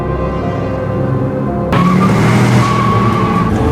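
A film car chase runs toward an unfinished toll road: an engine rumbles, then tires break into a loud, sustained screeching skid partway through, close and intense.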